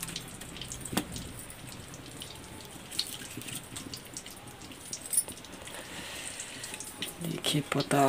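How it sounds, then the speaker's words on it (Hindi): Tap water runs steadily in a kitchen while tomatoes and other vegetables are washed, a soft continuous splashing with occasional knocks and drips, with a little background talk. "टमाटर पताल, सब चीज को अच्छे से धो लेंगे।"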